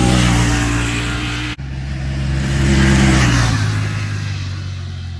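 Engine of a 2021 Honda Talon 1000R side-by-side, a 1000cc parallel twin with six-speed dual clutch transmission, revving loud and close as it accelerates, with a brief cut mid-pull and a steady rising drone afterward.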